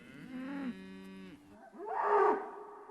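Dairy cows on an English farm moo in two long, low, drawn-out calls, the first steady and tonal, the second rougher and louder, heard clearly with no talking.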